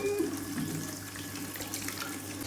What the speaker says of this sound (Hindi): पीने का पानी भी खत्म हो गया तो ये भर लेते हैं।